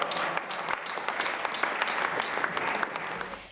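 A crowd at a Monday pilota match in the trinquet of La Pobla claps steadily after a 60-45 final, a dense, even applause that fills the whole stretch without letting up.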